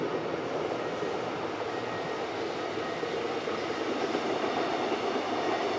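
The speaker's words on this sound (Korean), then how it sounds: "저거 올리면 기차가는 거야." A train passes by a riverside amusement park, a steady broad rumble of wheels and engine filling the whole stretch without pause, loud and close, with no voices over it.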